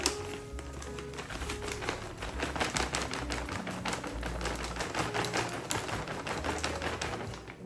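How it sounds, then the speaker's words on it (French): Firm taps and pats on potting soil pressed down around a repotted monstera, a steady run of close dull knocks over soft rustling, with faint bird calls behind. "Je sais pas s'il faut taper, par exemple, mais je tape pour que ça soit solide, parce que sinon, ça va pencher."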